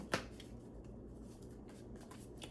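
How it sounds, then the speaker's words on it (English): Shadowscapes tarot cards being shuffled by hand, a soft continuous papery riffle and slide close up, with one sharper snap of cards near the start and steady rustling throughout. "So we're shuffling our cards,"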